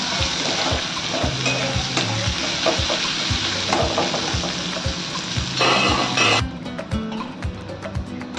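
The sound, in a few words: onion frying in a pan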